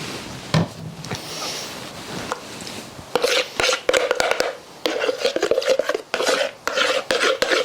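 Water being stirred into a mixture while preparing to spray a canvas, heard as a run of irregular scraping and sloshing strokes, close and fairly loud, with quieter pauses between bursts and no talking.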